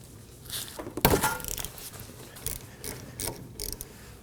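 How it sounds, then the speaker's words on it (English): A ratchet with a 12mm socket breaks loose a brake hose banjo bolt on a 2015-2023 Nissan Maxima rear caliper: a sharp crack as the bolt gives, then a series of close, quick ratcheting clicks in short bursts. "So use a ratchet and socket."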